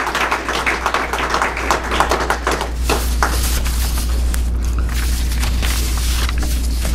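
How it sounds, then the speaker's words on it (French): An audience at a formal association handover ceremony breaks into applause, a dense, sustained crackle of many hands clapping that swells into a steady wash with a low background hum. "Que je vous demande d'applaudir"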